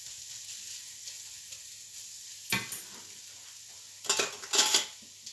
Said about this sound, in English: then our spice mix. Can all go in there. Cook those spices out.